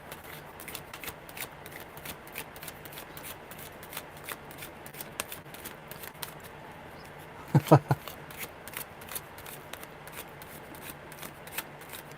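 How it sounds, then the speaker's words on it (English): Soft, steady riffling of tarot cards runs throughout, with a brief louder burst of shuffling near the middle; no voices. "All right. Good shuffles."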